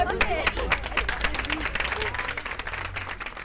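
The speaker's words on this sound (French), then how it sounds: "On applaudit." Crowd applause at a youth centre inauguration, a thick spread of many hands clapping throughout, with voices and chatter mixed in at the start before the clapping carries on alone.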